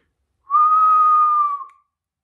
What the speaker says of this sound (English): I'm going to whistle and then I'm going to open my mouth